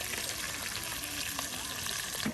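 Pangas fish frying in oil at a riverside cooking spot, giving a steady close sizzle with a light knock near the end, no talking.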